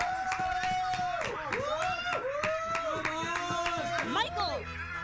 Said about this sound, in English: Yeah, the clapping.